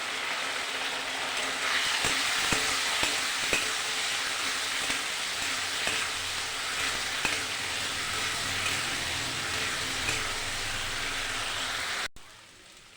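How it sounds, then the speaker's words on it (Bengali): Spices, tomato, salt and turmeric fry in a pan, making a steady, close, dense sizzle with a few scattered clicks and scrapes of stirring. The sizzle runs on without a break and then cuts off abruptly near the end. "ভালো করে মশলাটাকে কষিয়ে নেব।"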